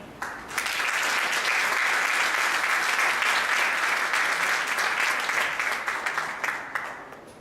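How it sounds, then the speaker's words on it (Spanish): Sustained audience applause in a university lecture hall in Peru, as a speaker is welcomed to talk on the Peruvian constitution; dense clapping swells in quickly and holds steady and loud for several seconds before thinning out. "Recibamos con fuertes aplausos a nuestro brillante expositor."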